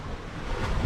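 High-tide ocean waves surge inside a sea cave on Bermuda, a short, loud rumbling wash of water with wind noise on the microphone, building toward the end with no talking.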